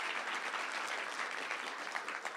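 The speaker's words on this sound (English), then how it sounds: "let's have a round of applause for Kevin Newman" An audience at a plenary session of a 2012 conference applauding the speaker, even, continuous clapping from many hands, fairly faint and distant, lasting the full couple of seconds.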